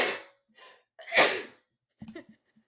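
A sharp breathy sneeze after a couple of quick inhales, followed by faint soft vocal sounds, near and fairly loud.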